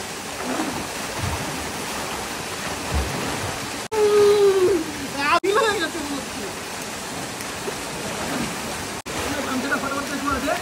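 A waterfall near Ranju Valley, Darjeeling roars as a loud, steady wash of falling water from nearby, with a few brief dropouts and people's voices rising over it.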